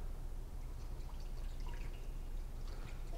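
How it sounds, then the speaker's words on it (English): Water is poured into the bath reservoir of a PolyScience rotary vacuum evaporator fitted with a 1 liter evaporating flask, a steady close splashing trickle throughout with no talk. "I'm gonna fill this reservoir with water."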